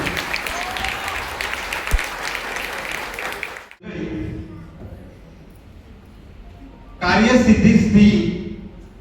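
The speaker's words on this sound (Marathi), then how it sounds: "एकदा त्याच्यासाठी टाळ्या व्हायलाच पाहिजे." Audience applause at a family community gathering and haldi-kumkum ceremony, a burst of clapping rising loudly near the end after a stretch of talk and crowd murmur.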